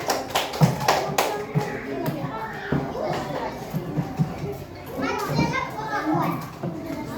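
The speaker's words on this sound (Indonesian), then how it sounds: "Kita beri tepuk tangan." Classroom children clapping together in short rhythmic bursts, while kids chatter and call out around and over the claps.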